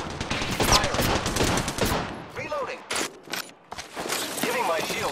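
Battle-royale video game gunfire: loud, close volleys of rapid shots in bursts with brief lulls, mixed with game voice callouts and talk.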